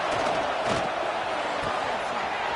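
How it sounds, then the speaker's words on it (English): A college football stadium crowd roars in a sustained, loud wall of cheering and noise as the defense faces third down in a Nebraska versus FSU game. "Decibels rising as the crowd gets behind this defense on third down."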